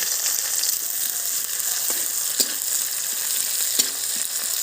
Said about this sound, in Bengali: তেলের মধ্যে দিয়ে দেব কালো জিরে